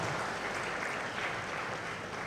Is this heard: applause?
yes